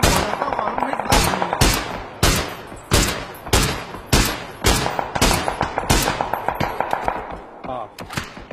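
Heavy gunfire in a shooting video game comes as rapid, loud shots and short bursts in close succession with no pause, and a voice can be heard faintly under the firing.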